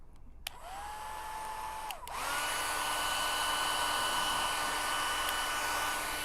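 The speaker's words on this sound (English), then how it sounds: "I'm going to turn on my hairdryer" A hair dryer switches on and blows steadily upward to float a ping pong ball, a loud whirring hum, pitch shifting briefly as it changes speed, then holding a constant roar.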